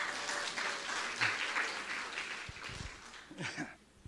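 A church congregation applauds a visiting preacher, a sustained crowd of clapping hands that gradually thins and trails off toward the end, leaving a few scattered claps and small room noises.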